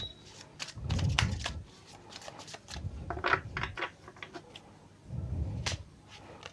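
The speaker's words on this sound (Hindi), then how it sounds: "ओके, बहुत कार्ड्स गिर रहे हैं।" Tarot cards are shuffled and dropped in soft, close bursts of papery rustling and flicking, three main waves with light taps between them, fairly quiet overall.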